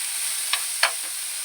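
Chopped tomatoes sautéing in a pan over fried onions, a soft constant hiss with two brief scraping stirs.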